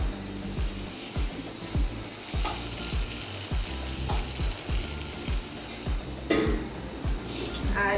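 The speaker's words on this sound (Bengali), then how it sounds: "আর ওদিকে দেখো পকোড়া ভাজছি" Pakoras frying in hot oil in a home kitchen give a steady, close sizzle, broken by a regular beat of stirring and scraping strokes, with a sharper clatter near the end.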